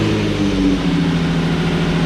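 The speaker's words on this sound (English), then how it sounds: "we're gonna turn on the car and see how she sounds." A Nissan 350Z Nismo HR with a newly installed cold air intake runs in a steady, low engine rumble, close and continuous with no talk.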